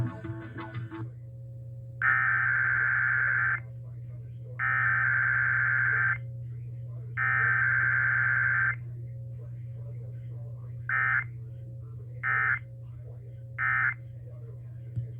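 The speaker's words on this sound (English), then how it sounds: "This concludes this emergency alert system test." Emergency Alert System weekly test tones play over the radio as three long buzzy data bursts followed by three short bursts. Each burst stands out clearly above a steady low broadcast hum.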